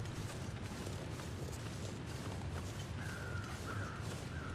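Crows circling a corpse in a canyon in The Long Dark give a couple of distant caws late on, faint against a steady blowing-wind backdrop.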